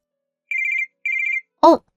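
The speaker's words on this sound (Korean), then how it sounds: "나 정미한테 전화 온다." An indoor telephone rings loud and clear for an incoming call, giving two short trilling bursts with a pause between them, followed by a brief voice.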